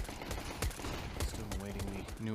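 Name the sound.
gunshots in video game CS:GO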